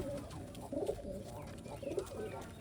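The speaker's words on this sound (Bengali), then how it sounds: "দেখতে পাচ্ছেন আমার হাতে একজোড়া কবুতর খাবার খাচ্ছে ব্ল্যাক হোমা মার্কিনি ব্ল্যাক হোমার" A pair of black homer pigeons coo softly in short repeated bursts while feeding close by, with low background noise and no talk.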